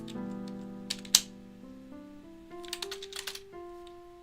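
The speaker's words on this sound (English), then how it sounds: "I have this really shitty fucking keyboard" Scattered keystrokes on a cheap, poor-quality computer keyboard, a few isolated clicks followed by a quick cluster of taps, heard over a sustained tonal background with music-like notes.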